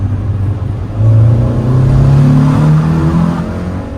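Engine-swapped Honda Integra revving inside a tunnel, a loud close-up drone that climbs in pitch after a second and holds a rising, echoing tone, with no talk over it.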